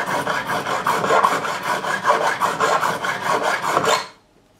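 A metal file rasps back and forth across a fret on a Garrison AG-700 acoustic guitar, in steady close strokes with a regular rhythm, before stopping abruptly into silence.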